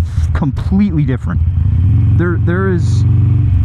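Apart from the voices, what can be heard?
dyno-tuned 1275cc Sportster motorcycle engine revving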